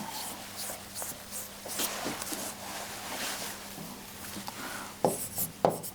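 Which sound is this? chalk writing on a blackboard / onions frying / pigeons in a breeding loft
chalk writing on a blackboard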